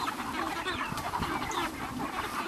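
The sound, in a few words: chickens clucking as they are shooed from the coop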